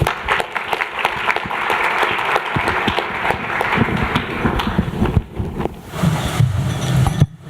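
Audience applause at a health policy leadership summit luncheon, a dense sustained clapping that fills the room for several seconds before thinning out near the end.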